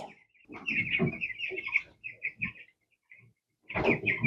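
Ross 708 broiler chickens at about fourteen days old clucking in a Hungarian poultry house: repeated close chirpy clucks in quick bursts, a short pause, then another burst.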